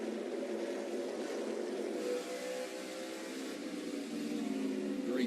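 Chevrolet Silverado race truck engine heard from an onboard visor camera during a race in Canada, a steady loud droning roar held throughout with slight swells, no voices.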